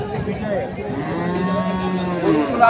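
Large bulls at a busy rural livestock market give a long, drawn-out moo, close and loud, over a murmur of crowd noise and nearby talk.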